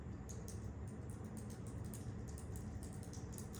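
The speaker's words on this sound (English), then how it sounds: "If you hear me typing, it's me" Soft, steady keyboard typing with rapid, irregular key clicks running throughout, quiet and close, with no voices.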